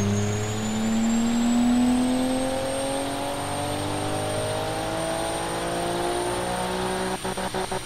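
A car engine in the racing game Automation revs and climbs through its range, a loud continuous synthetic engine whine with rising harmonics, ending in a few sharp stuttering cuts, no talking.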